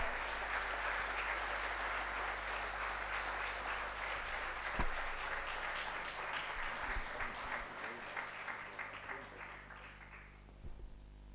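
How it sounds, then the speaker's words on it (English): A crowd applauds steadily in a large room, the clapping holding strong before thinning out and fading toward the end. "welcome him with a round of applause"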